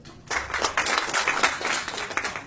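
Crowd applause from a large audience at a live Maithili poetry recital, a dense wash of many hands clapping that starts abruptly and holds steady and fairly loud throughout.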